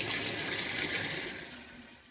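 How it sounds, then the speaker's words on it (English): Water rushing steadily into a Whirlpool Super Capacity Plus Imperial Series washing machine as it fills, a broad hissing wash that fades slightly toward the end. "This washer fills, spins, agitates, and drains with no problem."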